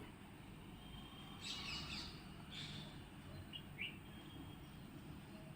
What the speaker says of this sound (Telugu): చక్కగా పక్షులు పిచ్చుకలు వచ్చి చక్కగా కిలకెల రావాలి చేస్తూ ఉంటాయి